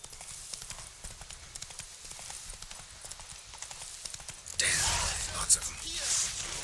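Roach the horse galloping in The Witcher 3: Blood and Wine, quick rhythmic hoofbeats that build into a louder rushing landing with a surge of noise near the end, alongside faint voices.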